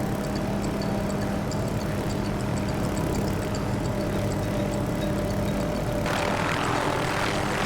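A simulated OrbX Kola helicopter in a flight sim drones steadily with a loud, constant engine and rotor hum and a faint high tick running throughout, brightening near the end.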